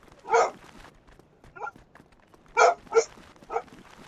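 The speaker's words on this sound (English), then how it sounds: "She's gonna bark for a minute." A dog barks in short bursts indoors, one loud bark, then a softer one, followed by a quick cluster of three, with quiet gaps between.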